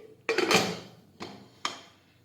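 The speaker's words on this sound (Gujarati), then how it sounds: "હવે આપણે કુકરનું ઢાંકણ છે તે બંધ કરી દઈશું" A pressure cooker lid being shut, one sharp metallic clank followed by two quicker, lighter clicks as it locks into place, close by with nothing else around it.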